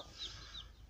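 Newly hatched chicks, seven out of nine eggs after about 22 days, peep and cheep in a short, fairly close burst with no one talking.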